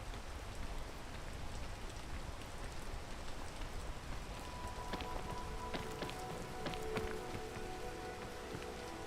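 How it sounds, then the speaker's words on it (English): Steady rain falls in the video game PEAK, a dense continuous hiss with scattered sharper drops and a few faint tonal game sounds joining partway through, no voices. "Need to wait for this rain to go past again."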